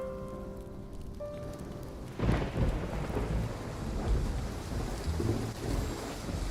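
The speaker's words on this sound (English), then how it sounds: "Why do we always end up caught up in a thunderstorm whenever we're together?" A video game thunderstorm builds from quiet rain into a loud rolling thunder crash that rumbles on under steady heavy rainfall, with no voices.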